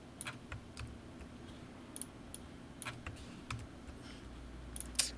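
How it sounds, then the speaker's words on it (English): Scattered, quiet clicks of keys being pressed on a computer keyboard over a faint steady room hum, a few taps spread unevenly through the clip with one slightly louder click near the end. "I'm gonna hit Alt and down on the keyboard with my clip selected."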